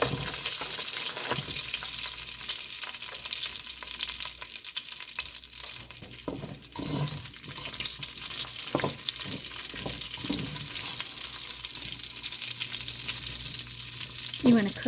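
Sliced chorizo frying in a pan, a constant crackling sizzle close by with repeated stirring scrapes and knocks of a utensil over about fifteen seconds, no talking.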